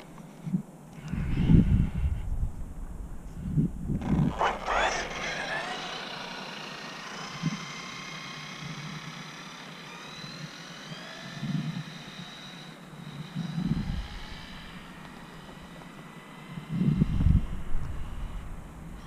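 An Arrma Outcast 4S RC car on a stock motor with an MMX8S and a 4S battery makes a high-speed pass. A rising electric whine sweeps past against outdoor background noise, with several louder bumps and rumbles along the way.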